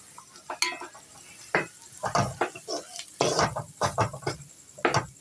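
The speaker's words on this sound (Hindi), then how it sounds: "एक मिनट तक हम इनको भी, बेसन को भी और नमक को भी भूनेंगे।" Gram flour and salt are roasted in a pan and stirred with scraping, clinking strokes in irregular bursts, close and moderately loud against a quiet background.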